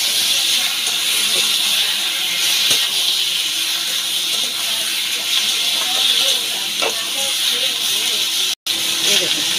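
Chicken scraps fry in a pan with a continuous steady hiss and crackle at close range, loud and even, broken once by a momentary dropout.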